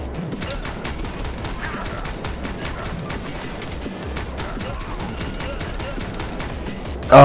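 Gunshots in the John Wick commute simulator game form a dense, steady rattle of rapid shots throughout, under engine-like noise and a sudden loud burst at the end.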